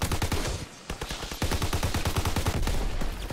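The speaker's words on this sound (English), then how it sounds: "Another person shooting." Rapid automatic gunfire from a Call of Duty WW2 online match, loud, sustained bursts of close shots firing in quick succession with a brief lull before resuming.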